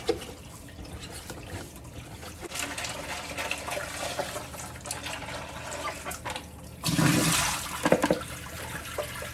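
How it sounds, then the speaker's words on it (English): Hot water runs into an appliance with a pump inside, a soft continuous trickle and splash that surges into a louder gush of filling water near the end. "I'm just going to fill that with a bit of hot water"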